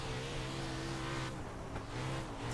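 A sprint car races on the dirt track at Bristol in the iRacing video game, its engine giving a loud, steady, high-revving drone with a slight dip in pitch partway through, and no voices.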